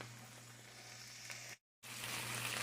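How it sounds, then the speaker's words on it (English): Onions sautéing in a pan for a ham and eggs breakfast, a faint steady sizzle with a hum underneath, briefly cut to silence midway and then resuming slightly louder. "I'm sauteing my onions right now"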